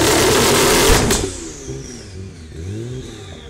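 AMS Alpha 12 Nissan GTR, a 1100-horsepower tuned twin-turbo build, revs loud and close, its roar cutting off sharply after about a second to leave a lower idle burble with smaller rising blips.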